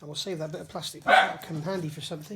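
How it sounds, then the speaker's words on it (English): A dog barks in short bursts inside a house, moderately close, between and over someone talking while he works on a front axle assembly. "Sorry about the dog."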